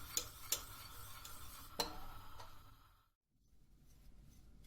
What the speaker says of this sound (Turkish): Kaynayıncaya kadar karıştırıyoruz